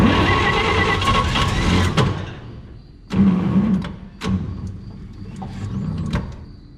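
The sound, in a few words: 1951 Chevrolet truck starter motor cranking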